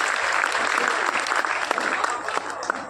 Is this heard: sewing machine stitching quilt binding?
no